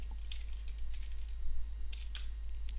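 Typing on a computer keyboard, a scatter of light close key clicks in small irregular bursts over a low steady hum, quiet and with no talk.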